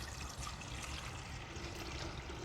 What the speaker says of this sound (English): I'm simply going to pour about 4 cups of water into my tea kettle